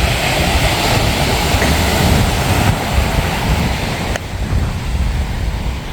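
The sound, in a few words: ocean waves crashing on a Florida Atlantic beach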